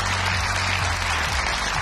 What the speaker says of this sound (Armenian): ծափարում ենք